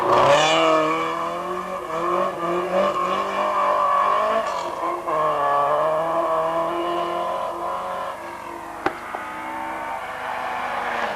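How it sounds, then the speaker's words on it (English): Rally cars race flat out at the 1988 Wicklow Rally, a Chevette among them, engines roaring loud and steady with harmonic drone, gear changes and revs shifting throughout, with a sharp brief crack near the end. "Certainly the pace is fast and furious, and brakes are on, jammed in. And Kearns there in the Chevette, losing her as well."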